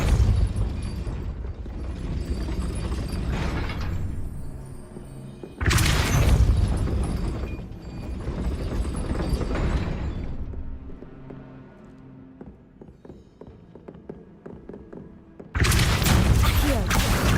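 Confringo fire spell explosions in the Hogwarts Legacy video game: several loud booming blasts with rumbling, crackling tails, separated by quieter stretches of mechanical game ambience.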